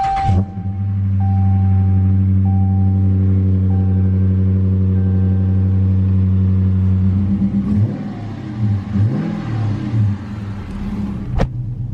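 A push-button car engine starts with a sharp crank, then idles in a loud steady hum; near the end the revs waver and something clicks.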